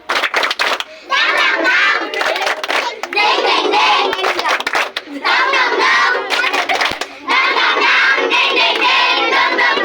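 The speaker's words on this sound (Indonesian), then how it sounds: "Tepuk semangat." A classroom of children performs a rhythmic spirit clap, chanting and clapping together in loud bursts with short pauses between them, their voices shouting along with the beat.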